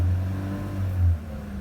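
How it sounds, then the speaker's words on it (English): A car engine with engine trouble runs and revs at a salvage auction lot, a steady low hum that swells briefly near the end before settling back down. "I'm gonna crank her up real quick."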